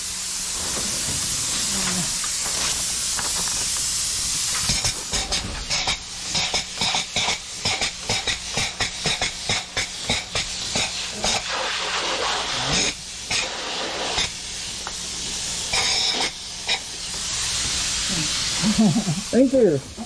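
A spray foam gun hisses steadily, then sputters in rapid bursts as the trigger is pulsed, with people talking nearby and some clattering.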